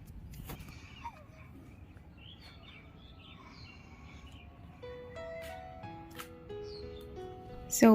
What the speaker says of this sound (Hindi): चारों ओर चिड़ियों की चहचहाहट